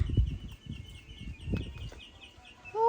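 Farmyard chickens and ducks being raised at a rural Thai home cluck and call in short bursts, fairly close, with a thin high bird chirp near the end and no talk.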